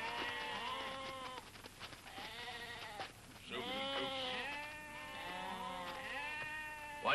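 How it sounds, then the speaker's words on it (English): A group of goats bleats repeatedly in overlapping wavering cries, fairly close and steady over a quiet background with no talk. "What are all those goats doing?"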